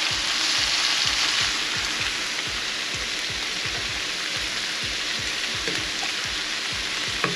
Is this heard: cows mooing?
no